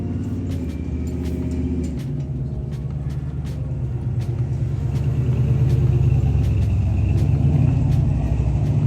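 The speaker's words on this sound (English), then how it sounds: "Get a shot of that truck." A truck driving past, a loud low engine rumble that swells gradually as it nears and stays heavy and close, with a few faint clicks scattered on top.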